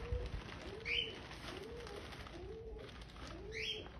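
A pigeon coos in a soft, repeated rolling pattern, four or five low coos spaced evenly, fairly faint and close, with a couple of brief higher chirps from other birds in between.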